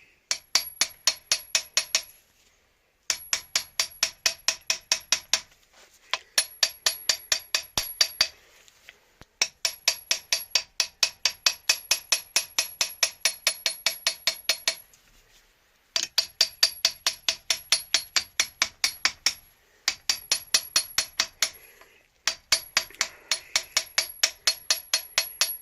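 Toffee hammer striking a stuck engine part on a Suzuki FZ50 moped under restoration, in fast regular metallic blows grouped into bursts of about a dozen, separated by short pauses, close and sharp with ringing clinks.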